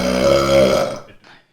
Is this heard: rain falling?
no